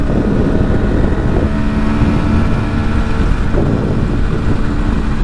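A classic Kawasaki H1 500cc two-stroke triple with 30,000 miles on it, heard while riding: a steady, buzzing engine drone with wind rush, loud and continuous throughout.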